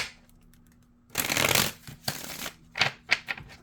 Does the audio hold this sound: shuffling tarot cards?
yes